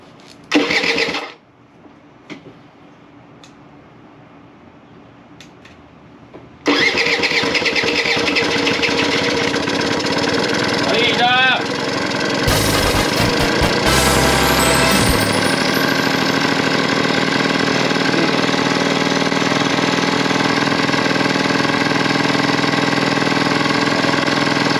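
A Honda AF09 Super Tact scooter engine makes a brief start attempt, then catches and settles into a loud, steady buzzing idle that runs on continuously with a short revving surge partway through.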